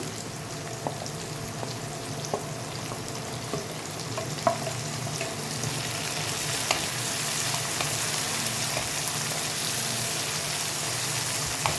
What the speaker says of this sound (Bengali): টমেটোটা ভালো করে পেঁয়াজের সাথে মিশিয়ে দিলাম।